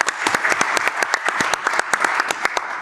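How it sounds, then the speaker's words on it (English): Brisk applause from a small audience, sharp distinct claps in a quick, even patter lasting a few seconds. "round of applause for Otilia."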